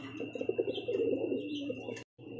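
A pair of pigeons coo softly in a low, rolling burble alongside a thin high tone and faint chirps. Sound is close and modest in level, with a brief dropout near the end.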